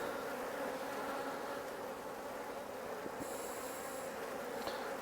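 Honeybees on a nuc frame during a colony split, a dense steady buzzing hum close by with a faint swish of long grass brushing across them, no talking.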